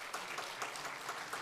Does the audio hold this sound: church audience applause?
yes